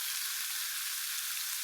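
Onions and green chillies frying in oil in a kadai for a chicken liver fry give a soft, faint, even hiss of sizzling over a brief moment, with one tiny knock near the start.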